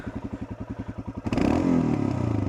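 A Royal Enfield 411 Himalayan motorcycle engine idles with a steady putter, then revs up sharply into a louder, rougher roar, close by.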